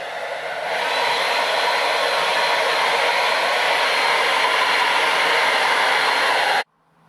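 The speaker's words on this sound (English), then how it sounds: "I'm just going to use a hairdryer." A hairdryer blows on a painted 00 gauge model of concrete, a loud steady close whoosh that runs without a break for several seconds, then cuts off abruptly.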